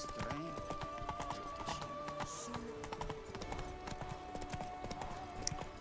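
A horse trots in The Witcher 3: Blood and Wine, its hooves making a steady clip-clop rhythm with occasional snorts under game music, with voices talking at times.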